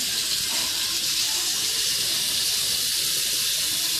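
Dentures are rinsed under a running tap, giving a steady hiss of splashing water that is close and continuous throughout, with no voices.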